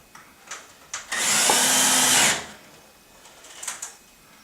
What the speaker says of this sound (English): simply put 2 screws directly into the stud